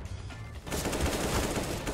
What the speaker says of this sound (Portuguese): Eu atirei no cara errado.